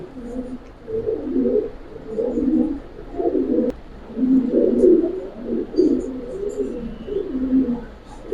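Several Giribaz pigeons coo continuously nearby in repeated low, rolling phrases, with a brief sharp click partway through and no talking.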